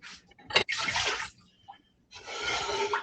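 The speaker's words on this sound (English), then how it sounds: "Water in your pot." Water poured from a tap into a cooking pot outdoors, two close splashing bursts of running liquid with a short pause between them.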